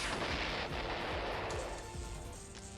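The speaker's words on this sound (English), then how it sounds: "That stun grenade is so overpowered." A stun grenade in the video game Psycho-Pass: Mandatory Happiness, heard as a loud, sustained roaring blast with rumbling low thuds that slowly fades.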